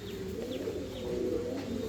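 Fancy pigeons, a breeding pair, coo softly with low, rounded repeated calls against a quiet background hum, faint and close, with no voices.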